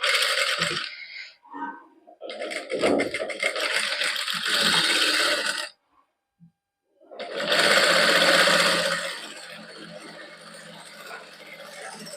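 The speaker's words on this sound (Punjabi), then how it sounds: "ਹੁਣ ਲਗਾਉਣ ਤੋਂ ਪਹਿਲਾਂ ਇਹਦੇ ਉੱਪਰ ਆਪਾਂ ਇੱਕ ਕੱਚੀ ਸਿਲਾਈ ਲਾ ਲਾਂਗੇ" A sewing machine runs a loose basting stitch along an embroidered salwar cuff, whirring steadily in two long bursts separated by a short pause, with light mechanical rattling as the fabric feeds through.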